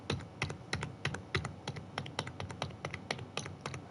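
Computer keyboard keys are pressed in a quick, uneven run of sharp clicks, close to the microphone and fairly quiet, with no voice over them.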